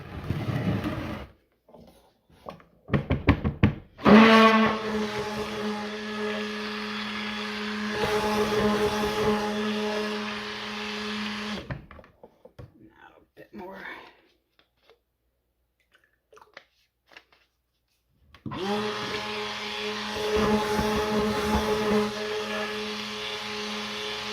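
A motorized mixer whirs in bursts through a batch of mentholated soap with titanium dioxide, loud steady runs broken by pauses and short restarts, close up with no talking.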